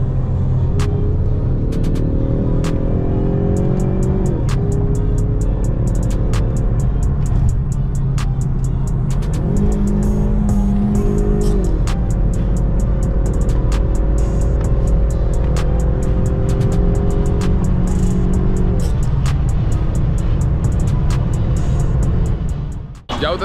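A 600 hp BMW M4 drives with a loud, steady engine rumble throughout, its revs rising and falling in several swells, while people talk over it.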